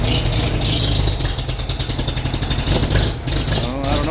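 A 1941 Farmall M tractor with a 12-volt Pertronix ignition runs in -8 degree cold under clutch load, its engine loud and close with a rapid, slightly uneven chugging that lurches briefly near the end.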